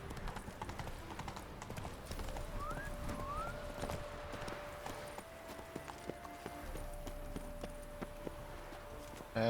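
Roach the horse gallops in The Witcher 3 with steady, quick hoofbeats, a couple of whinnies and game music, all at low level.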